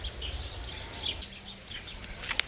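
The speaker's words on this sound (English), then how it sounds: "listening to the birds and bees around you" Small birds chirp and tweet in short bright bursts over a soft outdoor background in a community garden, fairly faint and scattered.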